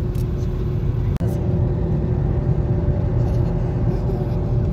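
Busy road traffic in Hounslow, a steady low rumble of passing cars and engines close by, with one sharp knock partway through and no talk.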